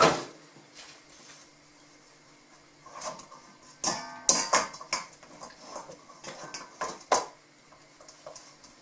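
Metal utensils clink and scrape against a sieve and pot while food is pressed through and scooped back in; sharp, irregular clatters and knocks come up close between quiet pauses, with no talking.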